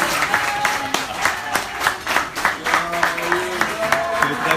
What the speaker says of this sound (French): Alors on pourrait applaudir les garçons qui sont là ce soir